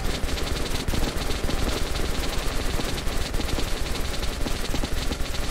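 A machine gun fires continuously in the video game Metro Last Light Redux, a loud, rapid and unbroken stream of shots that lasts the whole time.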